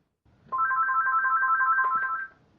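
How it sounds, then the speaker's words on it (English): A phone ringtone plays a repeating electronic warble, loud and close, running steadily for about two seconds before cutting off, with no one talking over it. "Sorry, buddy, there's a phone call."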